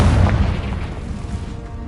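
Confringo explosive spell blast in Hogwarts Legacy, a deep booming burst that rolls away over about two seconds, loud and close.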